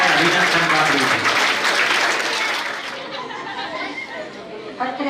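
Audience applause and crowd chatter at a school children's science exhibition, a dense burst of clapping that is loud at first, then thins and fades into murmuring voices near the end.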